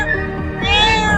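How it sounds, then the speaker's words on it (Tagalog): A street cat meows in a single drawn-out, rising and falling cry, close and fairly loud, with background chatter and noise from a busy outdoor spot. "Humingi yung pusa."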